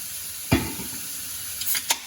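Turkey Italian sausage sizzles in a pan while being broken up, a soft steady frying hiss with a sharp scrape of the utensil near the start and a couple of brief scraping strokes toward the end.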